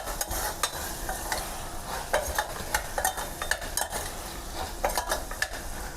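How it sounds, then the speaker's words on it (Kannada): Rice is stirred in a pan with chili and coriander powder, making steady scraping and sizzling with a spoon clattering against the pan at an irregular rhythm, close and moderately loud, with no voices. "ಮತ್ತು ಒಂದು ಸ್ವಲ್ಪ ಕೋರಿಯಂಡರ್ ಪೌಡರ್ ಹಾಕಿ ಚೆನ್ನಾಗಿ ಮಿಕ್ಸ್ ಮಾಡ್ಕೊಳ್ಳಿ."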